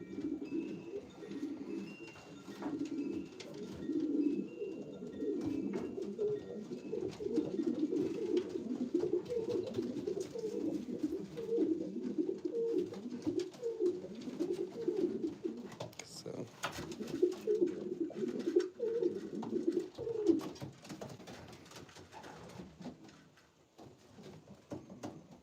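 Racing pigeons coo in a close, continuous run of soft, throaty rolling calls, with light rustling and pattering in the background.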